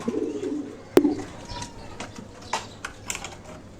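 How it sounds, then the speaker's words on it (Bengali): Pigeons peck chickpeas from a tray in quick, irregular clicking taps at close range, with a soft coo near the start and no speech. "সবকটা কিন্তু বুট খাচ্ছে"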